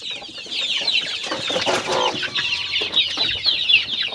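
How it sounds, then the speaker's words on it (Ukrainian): Chickens and small chicks cluck and cheep continuously in a farmyard, close and fairly loud, with overlapping calls and no talk. "Кочка, заводь своїх малих вредних курчат"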